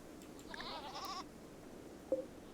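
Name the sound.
goat bleating in the video game Rimworld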